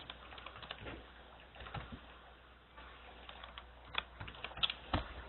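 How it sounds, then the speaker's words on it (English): A computer keyboard is being typed on to enter names, with faint, irregular clusters of soft key clicks and short pauses between bursts. "I'm just going to go ahead and manually type out 3 student names"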